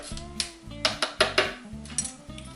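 Metal utensil clinks and scrapes against a bowl while melted butter and lime flesh are stirred into a chocolate pie base, a string of sharp close taps in uneven rhythm.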